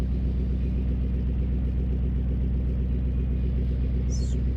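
A massive 7-liter triple-carburetor engine idles rough and burbling, a loud steady low rumble with a shaky, uneven pulse that runs continuously up close, with no change in pace.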